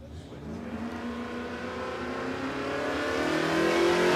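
A Holden Colorado ute at a drag race meeting, its engine holding a steady, loud revving drone that climbs gradually in pitch and volume as it accelerates, close by with no talk.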